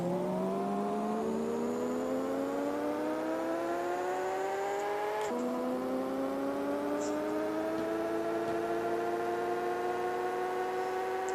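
A Datsun car engine in a racing video game, revving steadily upward through long gear pulls with a smooth rising whine, a brief shift near the middle, then climbing again, loud and constant with no talk.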